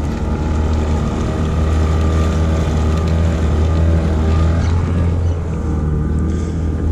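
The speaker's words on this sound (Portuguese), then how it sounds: "Mete esse motor na água." Outboard motor on a fishing boat on Lago Canabrava in Tocantins running steadily, a loud, close, continuous engine drone with strong low hum and some wind buffeting, with no talk over it.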